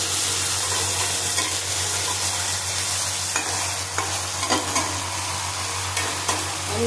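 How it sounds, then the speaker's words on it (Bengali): Green chili paste, ginger paste and spices frying in a pan for egg curry, a loud, continuous close-up sizzle with occasional scrapes and taps of stirring running through it. "মশলাগুলো ভালো রকম কষিয়ে নেবো।"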